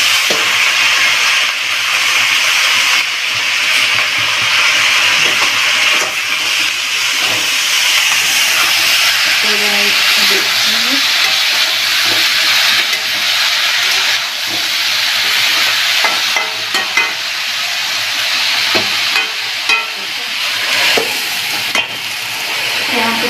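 A hot tempering for spinach dal loaded with chillies sizzles loudly and continuously at close range, a dense steady hiss with faint stirring clatter throughout and no talking.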